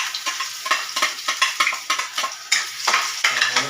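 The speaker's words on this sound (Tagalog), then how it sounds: "Haluin natin siya." Garlic and onion frying in a pan for basic fried rice, stirred with a utensil in a quick run of scraping strokes over a steady loud sizzle, close and with no talking.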